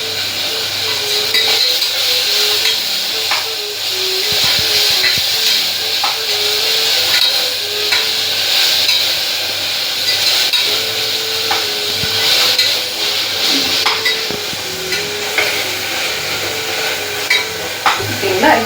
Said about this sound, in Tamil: இப்போ இஞ்சி பூண்டு பேஸ்ட் நல்லா ஃப்ரை ஆயிடுச்சு.